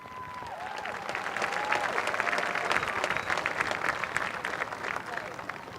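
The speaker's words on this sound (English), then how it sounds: "I think that deserves a round of applause" Audience at a 2018 high school graduation ceremony breaks into applause that swells from moderate clapping to a dense, steady ovation, heard from within the crowd.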